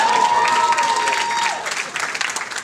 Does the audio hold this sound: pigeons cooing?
no